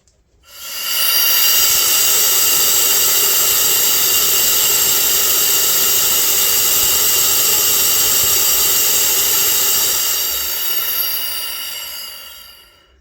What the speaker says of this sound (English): we're going to see how this meter performs venting to free air